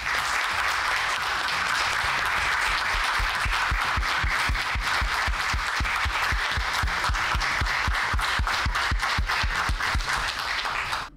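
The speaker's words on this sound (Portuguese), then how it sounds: "eu queria pedir aos meus colegas uma sessão de aplausos, se possível de pé, ao Fabiano, sargento Fabiano" Council members at a legislative session give a standing ovation, loud applause that starts as a broad wash and settles into rhythmic, synchronized clapping with a steady beat before cutting off abruptly.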